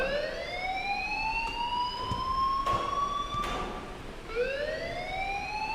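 An alarm in the video game Life is Strange wails as a rising siren tone that repeats twice in slow sweeps, with a few sharp clanks in between, loud and clear over quiet background.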